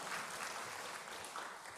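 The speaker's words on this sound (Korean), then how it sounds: "하나님께 감사와 영광의 박수를 드리시겠습니다" Worshippers at a Sunday church service applaud to give glory to God, a quiet, distant-sounding blur of many hands clapping together without pause.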